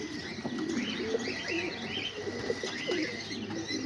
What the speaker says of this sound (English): And all the pigeons are out there on the roof right there.